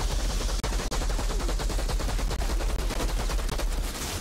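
Continuous machine-gun fire in an Xbox One video game, a dense, loud, unbroken stream of rapid shots that runs for several seconds with only tiny gaps.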